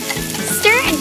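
Garlic, potatoes and carrots fry in oil in a miniature pan, a steady close sizzle with faint scraping as the food is moved around, lasting only a moment.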